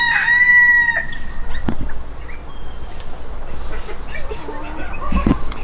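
A rooster crows loudly at the start of the clip in a backyard breeding flock, with hens clucking and other fowl calling intermittently in the background.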